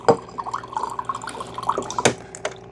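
A Keurig K-Duo Gen 2 coffee maker running water during a descale cycle, giving a close series of irregular drips and splashes into a cup or pot, with a few sharper plops standing out.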